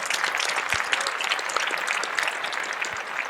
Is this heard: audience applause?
yes